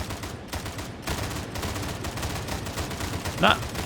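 Burst-fire gun shooting in Warhammer 40K Darktide, a dense continuous run of gunfire and impacts filling the clip, with one sharper louder shot near the end.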